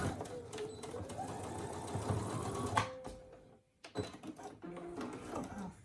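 A Brother SE1900 embroidery machine stitches a Christmas stocking with a steady, rapid mechanical chatter that stops abruptly, then restarts in short bursts with small clicks.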